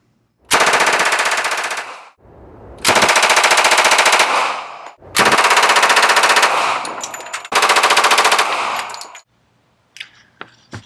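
A Colt Model 1921 and a Thompson Model 1928A1 submachine gun fire in four long, loud full-auto bursts. Each burst lasts about one to two seconds, with short pauses between them, and scattered clinks follow at the end.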